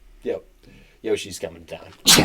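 A single loud sneeze bursts out right at the end, close to the microphone, just after people talk on a podcast.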